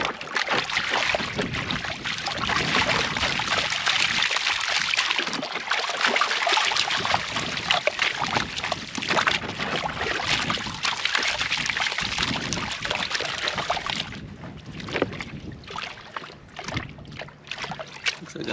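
Water sloshes and swirls continuously as gravel is panned in a gold pan, a dense wet rushing close by that eases into lighter splashes and trickles toward the end.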